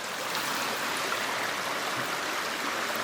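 Steady broadband rush of a river flowing at close range, continuous and even throughout with no voices.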